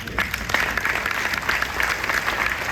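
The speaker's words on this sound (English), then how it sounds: "Now all that definitely deserves a round of applause." Audience applause fills a banquet hall, a steady wash of many hands clapping at moderate volume with no voices over it, holding evenly for a few seconds.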